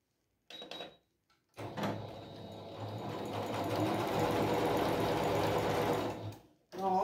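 Domestic sewing machine stitching fabric for a handmade rug, starting with short bursts and then running in a long, steady, fast mechanical whirr close by, ending with a brief clack.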